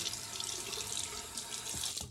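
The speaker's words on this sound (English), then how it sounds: "I just keep squishing it under running water." Tap water runs steadily into a sink while a makeup beauty blender sponge is squeezed and rinsed under the stream, giving a continuous close hiss and splash with no talking.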